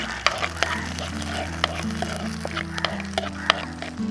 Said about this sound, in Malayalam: ഇഞ്ചിയുടെയും വെളുത്തുള്ളിയുടെയും മറ്റേ പച്ചമുളകിൻ്റെയൊക്കെ ഒരു പച്ചമണം മാറുന്നതിന് വരെ നമ്മളൊന്ന് ഇളക്കി കൊടുക്കണം.